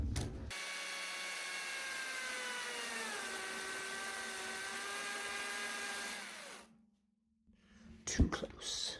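A chainsaw cuts a groove into a shipping container floor, a steady, sustained engine whine lasting about six seconds that drops slightly in pitch under load before cutting off, then a brief idle and some clattering.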